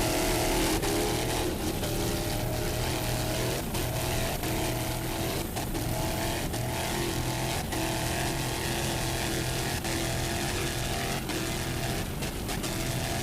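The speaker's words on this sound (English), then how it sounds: "Nice driving there by Richie Liguri Jr." Race cars roar around the circuit at the 2002 Savannah Grand Prix, engines droning loud and continuous with shifting pitch as cars pass.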